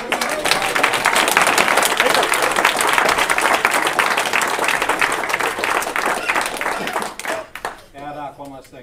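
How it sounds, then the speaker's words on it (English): Audience applause at a community gathering in a facility, loud dense clapping sustained for about seven seconds before tapering off as a voice begins talking. "So please give yourselves all a round of applause for building"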